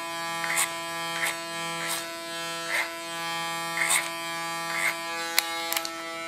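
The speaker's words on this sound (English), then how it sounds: "I can use my clipper as a comb." An electric hair clipper hums with a steady, bright tonal buzz while cutting hair, its pitch dipping briefly in repeated strokes as the blades pass through, close and alone.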